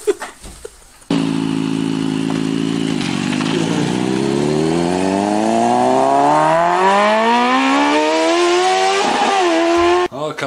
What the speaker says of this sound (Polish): O, Kawasaki silnik może?